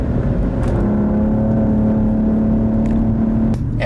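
Steady engine drone from a 2017 Cadillac ATS Coupe at speed, with a held tone that sets in partway through as it is short-shifted into 5th gear, then drops near the end; loud and continuous, with no talking.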